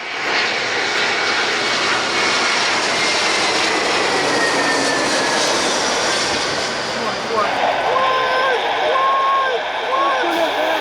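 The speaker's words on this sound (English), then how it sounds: "This privileged-style A321 was just feet above the runway when sudden gusts and wind shear caused it to skew left moments before touchdown." An Airbus A321 on final approach just feet above the runway in gusty wind shear, its jet engines giving a loud, steady roar with wind buffeting throughout and a rising whine near the end.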